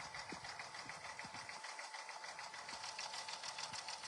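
An embroidery machine stitches satin stitches in a fast, steady mechanical rhythm, close and moderately quiet, with faint periodic thumps of the needle mechanism and no talking.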